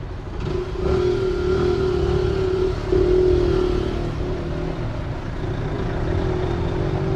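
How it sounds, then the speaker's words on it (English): A motorbike engine drones loudly and continuously nearby on a city street in Lisbon, holding a steady throaty tone with slight shifts in pitch and no talking. "Awful sound. Of this motorbike, or I don't know what is."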